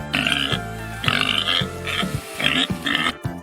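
A pig grunts and oinks in a series of about five loud, close, nasal snorts separated by short pauses.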